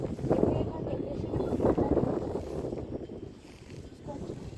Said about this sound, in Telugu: గాలి అయితే మస్తు వస్తుంది